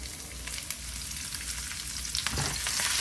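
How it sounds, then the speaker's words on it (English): Steady, crackling sizzle of curry leaves frying in hot oil, loud and continuous throughout, with a brief burst of stronger spattering near the end. "That sound is just the water from the leaves hitting the oil."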